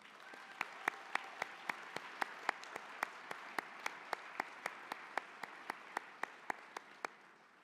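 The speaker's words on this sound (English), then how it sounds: "let's give everyone else here a big round of applause" Rhythmic applause at a graduation ceremony for the class of 2023: sharp, evenly spaced claps ring out in a steady beat over a soft wash of crowd clapping, fading slightly toward the end.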